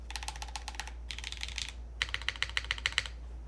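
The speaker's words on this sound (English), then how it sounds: "let's see what the milky yellows sound like" Mechanical keyboard with milky yellow switches in a Quantum60 build, typed in three quick bursts of crisp, close clacks with a low steady hum underneath.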